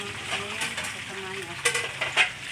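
Chicken frying in hot oil for broasted chicken, a steady close sizzle with some stirring and a couple of brief clatters, no talking.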